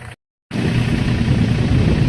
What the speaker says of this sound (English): while we let the tractor sit here and run and charge itself for a little bit